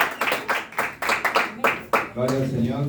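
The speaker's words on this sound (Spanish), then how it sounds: "vamos a recibir con fuerte aplauso al doctor" Church audience applause welcoming a doctor to a debate, a burst of clapping with repeated sharp hand claps, fairly close and loud, before a voice begins speaking near the end.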